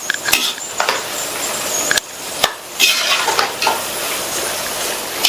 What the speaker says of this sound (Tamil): இந்த மாதிரி பெரட்டி விட்டு இந்த புடலங்காய் பீசஸ்லாம் நல்லா மொறுன்னு வந்ததுக்கு அப்புறமா எடுக்கணும்